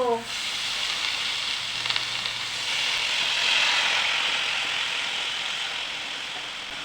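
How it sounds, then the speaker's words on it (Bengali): Taro leaves fry in a kadai, hissing steadily for several seconds after a brief clatter as they go into the hot oil, close and fairly loud. "কড়াইতে কচু পাতা বসিয়ে দেব"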